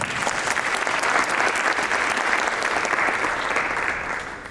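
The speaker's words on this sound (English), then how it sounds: "So a big round of applause, please." Sustained applause from an audience at the Arifpay 1.0 product unveiling event, dense steady clapping throughout that tapers slightly at the end.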